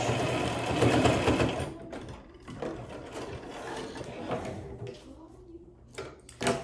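A sewing machine back stitches a simple fabric face mask, whirring briefly and then breaking into irregular ratcheting mechanical clicks and taps with short pauses between them, heard up close.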